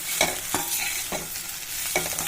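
Bitter gourd fries with salt and chili masala in a pan, a continuous sizzle broken by four sharp scraping stirs at uneven intervals, close and fairly loud, with no talking.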